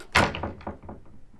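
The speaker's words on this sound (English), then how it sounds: "let's go with maybe office door close and open" A door shuts with a solid thunk that rings briefly and fades, followed by a few softer knocks and rattles as it settles, close and fairly loud, with no voices.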